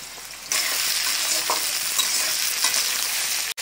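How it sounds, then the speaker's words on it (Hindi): Wild mushrooms (putu) frying in lightly heated mustard oil, a steady close hiss of sizzling that starts abruptly and holds loud and even, with a brief stir or scrape partway through and no talking. "अब सरसों तेल को हल्का गर्म करके कुटू को हम इसमें डालेंगे और हल्का फ्राई करके निकालेंगे इसको।"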